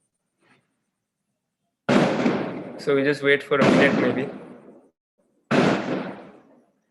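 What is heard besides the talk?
fireworks and firecrackers going off outside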